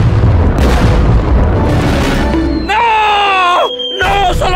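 Massive TNT blasts in a block-building video game rumble loudly for the first couple of seconds, then give way to overlapping screaming and shouting voices with a short silent gap near the end.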